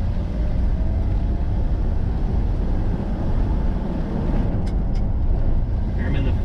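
A 1969 Ford F-350 flatbed truck drives down a road, its engine and road noise forming a loud, steady rumble heard from inside the cab, with someone talking over it.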